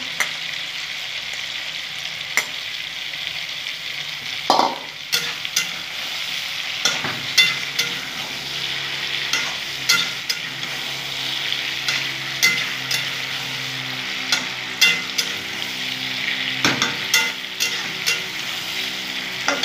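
Tomatoes go into a hot pan to fry and are stirred, giving a continuous bright sizzle broken by repeated spatula scrapes and knocks against the pan, close and fairly loud, with no talking.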